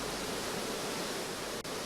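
Water released from Basava Sagara Dam into the Krishna river rushes with a dense, steady roar that is loud and unbroken apart from one brief dip near the end.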